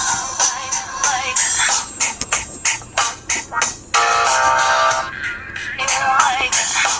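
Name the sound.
Music playing from FAEA F2S phone speaker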